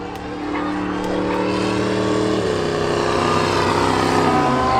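An old pickup truck accelerates hard at the Oxford Plains Speedway spectator drag races, its engine droning loud and close, with the pitch dropping sharply twice as it shifts gears.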